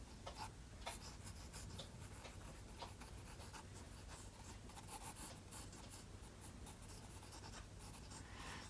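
A pencil scratches and rubs quickly across paper while sketching a foot, soft rapid strokes in a steady rhythm, close and faint with no talking.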